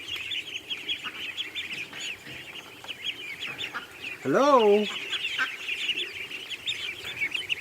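Ducks calling near a person who greets them, a short burst of loud honking quacks rising over steady background ambience, with brief speech nearby.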